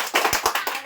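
A short burst of students clapping in a classroom after a correct answer, several quick claps in under a second, close and fairly loud.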